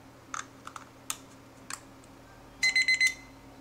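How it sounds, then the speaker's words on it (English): Clicks and snaps of a battery going into the compartment of a Habor kitchen timer come first, a few sharp taps spread out, then the timer gives a loud run of rapid electronic beeps near the end. "battery in this compartment here."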